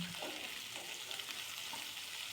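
Onions sauté with a pinch of salt in a pan, giving a soft, quiet sizzle with light stirring.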